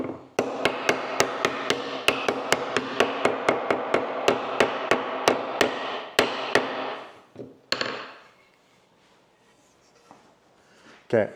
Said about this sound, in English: I gotta hammer this together